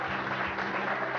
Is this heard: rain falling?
no